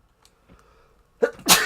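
A close, loud sneeze in two bursts, a sharp intake followed by an explosive release, after a quiet moment with faint small noises.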